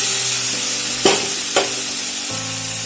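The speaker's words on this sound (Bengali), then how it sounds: "পটল ও চিংড়ি মাছ একসঙ্গে দিয়ে আবারও মিনিট পাঁচের মতন কষিয়ে নেব" Potatoes, pointed gourd and prawns sauté in a spiced masala with a continuous sizzle. Two sharp spatula scrapes against the pan cut through it close by.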